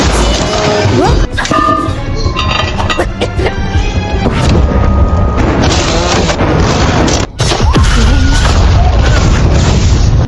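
Loud, booming explosions and crashing blasts fill a continuous, dense soundtrack from the film Clown in a Cornfield, with a brief dropout before the roar resumes.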